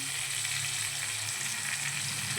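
Grated ginger sizzles in a hot frying pan for a cooking dish, a steady dense hiss with no pause and no one speaking.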